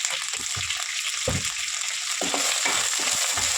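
Dal and ginger paste frying in oil in a pan for Andhra-style mutton liver curry, giving a steady close sizzle with brief scraping stirs throughout.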